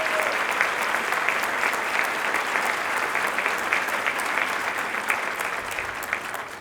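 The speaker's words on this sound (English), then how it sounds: "So let's give a round of applause to my wife, Hannah Snyder-Cotton, for coming out and joining us today." An audience at a Rotary debate event gives the speaker's wife a sustained round of applause. The clapping is loud, dense and steady, with scattered hand claps standing out from the mass.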